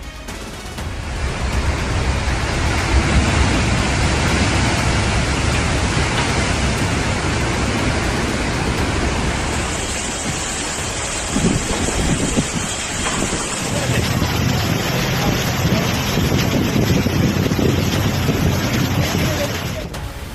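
Steady roaring wind gusts of Cyclone Michaung in Chennai buffet the microphone, with a constant hiss like heavy rain or surf running throughout.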